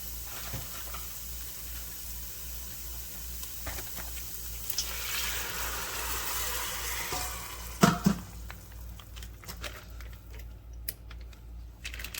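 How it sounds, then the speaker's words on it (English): Onions and garlic sizzling in a pot, with liquid poured in partway and a brief clatter near the end, a steady frying hiss throughout. "so let's go ahead and add our liquid."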